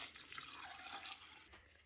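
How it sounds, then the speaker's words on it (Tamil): Water runs into a bowl of 300 grams of chana dal (split chickpeas) set to soak, a close, steady trickling and splashing that tapers off briefly near the end, with no talking. "இதை தண்ணி விட்டு ஊற வைப்போம்"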